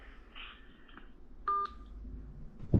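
A short series of telephone keypad tones beeps one after another, clear and close, ending with a soft thump.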